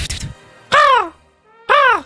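Crow caw sound effect announcing crow mail during an animation stream: two loud, harsh caws spaced about a second apart, each a downward-sliding call standing alone against near silence.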